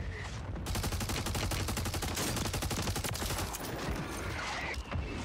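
Rapid automatic gunfire from a Holger rifle in Call of Duty Warzone, a dense sustained burst of loud shots at a steady fast rhythm running almost the whole time, with brief gaps near the end.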